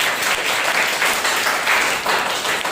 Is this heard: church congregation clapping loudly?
yes